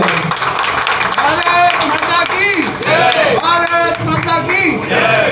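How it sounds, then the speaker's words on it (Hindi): Applause from the crowd at a police public meeting held in a street in New Mahavir Nagar, West Delhi, a few seconds of loud clapping mixed with crowd murmur and someone speaking over it. "जोरदार तालियों से"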